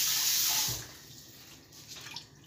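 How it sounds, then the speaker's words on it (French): Water poured into a cooking pot in a home kitchen, a short bright splashing rush that stops abruptly, leaving faint quiet trickles afterward. "Je vais mettre un petit peu d'eau."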